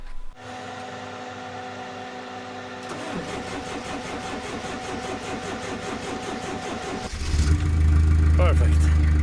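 A cheap snowblower engine, powered through jumper leads from an extra battery, cranks with a rapid rhythmic churning and then catches into a louder, steady running roar near the end, close by.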